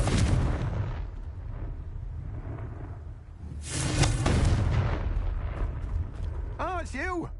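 A Confringo blasting spell from Hogwarts Legacy bursts loudly, a broadband blast rising from a rumbling game backdrop, then fading into whooshing effects and sharp chirping magic tones at the end.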